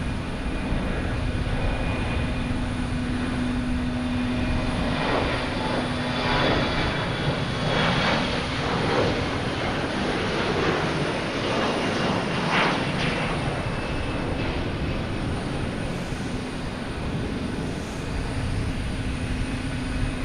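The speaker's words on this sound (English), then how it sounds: "United Airlines, a 737 MAX 9 coming in from Dulles." A United Airlines Boeing 737 MAX 9 jet arriving at Boston Logan Airport from Dulles makes a loud, steady engine roar that holds for the whole stretch, close and unbroken.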